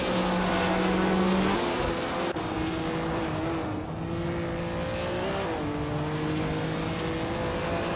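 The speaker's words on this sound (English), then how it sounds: "Amin-san is driving a Ferrari 250 Testarossa from 1957" A 1957 Ferrari 250 Testarossa race car engine drones steadily and loudly during a race, its pitch holding level with small shifts as gears change, sounding continuous with no voices.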